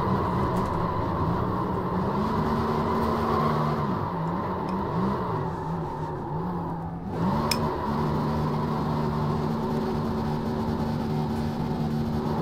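Simulated stock car in iRacing, a Next Gen car at Charlotte, doing a burnout: a steady, loud engine drone holds near constant pitch, dips and wavers briefly midway, then resumes its sustained roar.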